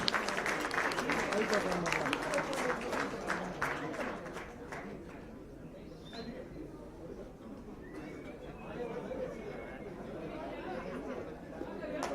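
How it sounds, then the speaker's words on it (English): Applause and audience chatter at a corporate long service awards event as dancers come on stage for a fusion performance, strongest at the start then fading into murmuring crowd noise. "Can we have the dancers on stage and a round of applause to the dancers?"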